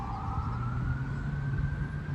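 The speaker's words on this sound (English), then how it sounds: "Like that ambulance about to go save and help somebody." Ambulance siren wailing steadily in a sustained rising tone, loud and near, over a low rumble of traffic, with no voices.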